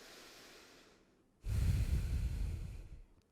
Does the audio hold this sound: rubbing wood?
no